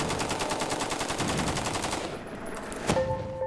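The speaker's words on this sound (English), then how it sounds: "The bullet pierces the can at 900 miles per hour." A rifle shot strikes a gasoline can at an outdoor range, heard as a loud rapid burst of cracking gunfire-like impacts that fades, followed by one sharp report near the end.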